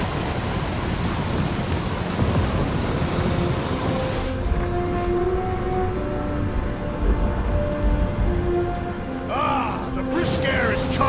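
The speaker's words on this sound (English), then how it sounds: "Whoa! That is some really crazy lightning out there." Thunderstorm with heavy rain in Guardians of the Galaxy, a dense steady hiss of rain with low thunder rumbling underneath, while voices talk over it in the middle and near the end.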